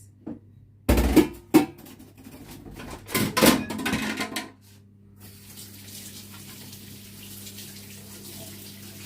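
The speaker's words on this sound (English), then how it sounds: "let me wash my hands" Hands are washed under a running kitchen tap, with bursts of splashing and gushing water over the first few seconds, then the flow stops, leaving a faint steady room hum.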